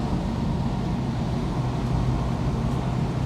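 A 1968 Ford Mustang 390 GT Fastback with its 6.3-litre V8 rumbles steadily at close range, a thick, continuous low-frequency roar with no break.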